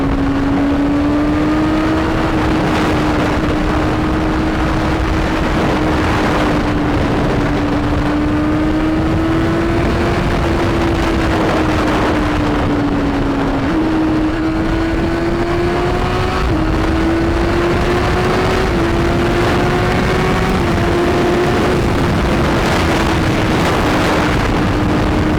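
A Honda CBR1000RR Fireblade sportbike accelerating through traffic, its engine note droning loud and close, climbing in pitch through repeated gear pulls, with heavy wind rush throughout and no talking.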